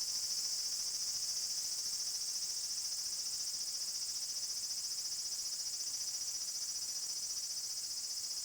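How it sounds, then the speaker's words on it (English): Cicadas drone in a steady, high, unbroken buzz outside a police hospital, constant and fairly loud throughout with no other sounds or voices. "the cicadas are making loud noises"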